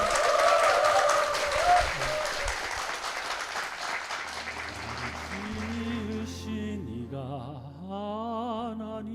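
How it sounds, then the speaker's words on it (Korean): A church congregation applauds loudly for several seconds, then the clapping fades as music with a sustained sung or keyboard tone comes in. "여러분 힘찬 박수 부탁드립니다"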